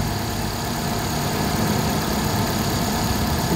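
Overheating car engine idling in a steady, low, even drone throughout, moderately loud and close, with no talk.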